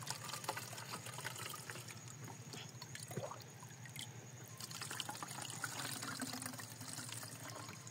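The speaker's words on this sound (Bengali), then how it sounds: "এই পট দিয়ে 2 পট পানি," Water poured into a measuring pot, a faint continuous trickling and filling sound, quiet and without talk.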